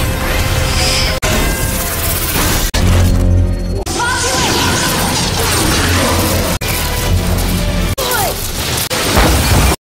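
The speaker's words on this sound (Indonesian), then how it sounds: "Hingga tank itu hancur berkeping-keping" An animated tank is blown to pieces by a combined alien and magic attack: loud, dense crashes and smashing bursts pound almost nonstop, with a few brief sharp breaks, and no talking.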